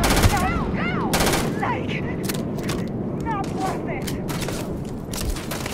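Rapid bursts of gunfire in Starfield, sharp repeated shots in clusters over a dense noisy combat backdrop, with a voice speaking over it.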